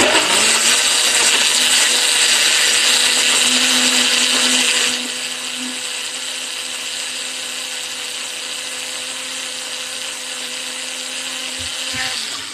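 A blender liquefying garlic in truffle oil for chili, a loud steady high-pitched motor whine with a whirring blade, easing to a slightly lower, lighter pitch partway through and running on continuously until a brief clunk near the end.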